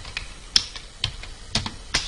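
Computer keyboard typing while text is edited in a PowerPoint quiz, a handful of crisp, close key clicks in irregular bursts with quiet gaps between, no talking.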